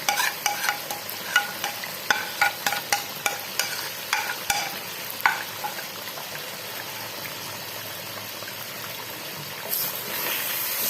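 Chicken korma meat with red chilli, coriander powder, turmeric and salt frying in a pot, with sharp scraping stirs at a steady rhythm early on over a soft continuous sizzle that settles later.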